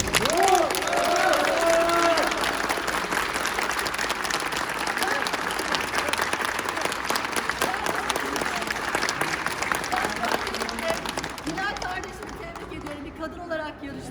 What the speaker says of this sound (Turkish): sizden hepinizden bu seçimin sonunda bu iki arkadaşıma çok yüksek alkışlamanızı istiyorum.